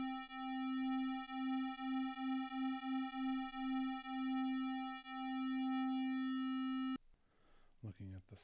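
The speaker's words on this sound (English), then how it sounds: "With the square, we get a really metallic-y kind of sound." A bright, buzzy square-wave synth oscillator tone from a Synthstrom Deluge with a metallic edge holds one pitch, pulsing slightly, before stopping; a brief voice follows at the end.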